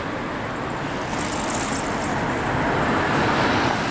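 A car passes along a street in Kyiv's Podil district, a steady broadband roadway whoosh of traffic that swells slightly toward the end, with no voices.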